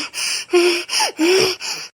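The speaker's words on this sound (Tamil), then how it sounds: "ஆவா மேல் மூச்சு கீழ் மூச்சு வாங்குறாளே," A woman in a Tamil TV drama pants heavily, her breathing coming in five loud, close, rhythmic gasps with a voiced, breathy edge and no speech.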